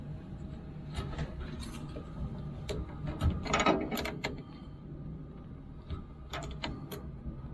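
A ratchet tightens the battery terminals on a Chinese QH13R mini excavator, giving quick bursts of close, quiet clicking separated by short pauses.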